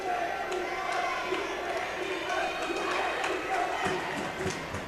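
Crowd noise fills a high school gym during a girls' volleyball semifinal timeout between Tolman and Cranston West, a steady loud roar of voices and cheering with a commentator talking over it.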